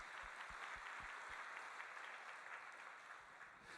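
A church congregation claps in praise to God after a sermon, a soft, fairly distant wash of applause with a few sharper claps early on, easing gradually and heard without talk.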